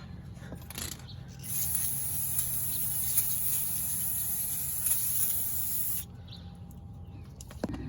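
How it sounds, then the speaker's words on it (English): An aerosol can of brake parts cleaner sprays a steady, loud hiss for several seconds while working on a 2017 Toyota Highlander's brakes, with faint clicks and handling noises before and after. "It's a brake parts cleaner."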